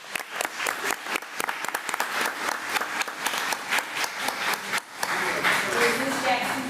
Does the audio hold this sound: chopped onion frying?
no